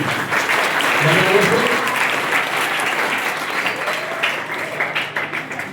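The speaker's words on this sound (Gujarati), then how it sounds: "આપણે સર્વે એમને પુષ્કળ તાળીઓના ગડગડાટથી" Sustained audience applause welcoming guests at a school notebook and compass distribution ceremony in Sankheda, steady dense clapping filling the room for several seconds, with faint voices mixed in beneath.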